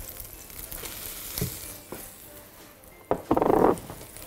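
Butter and a small spoon of flour quickly stirred in a frying pan: quiet sizzling with a few scraping taps, then a loud burst of hissing sizzle as the mixture hits the hot pan near the end.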